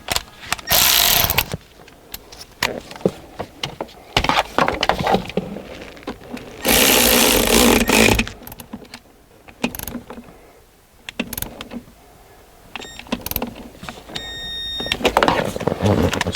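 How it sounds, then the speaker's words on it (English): Battery terminal clamps being tightened on a Mercedes GL450 during an auxiliary battery replacement, heard as bursts of close mechanical clicking and ratcheting separated by quieter handling noises and pauses. "So now we're going to tighten the battery terminals."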